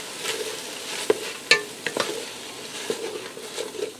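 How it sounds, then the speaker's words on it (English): Browned ground beef with celery and garlic being stirred in an Instant Pot, with a spoon scraping and clicking against the inner pot and a soft sizzle beneath, close and moderately loud, no talking. "I'm going to give that a stir."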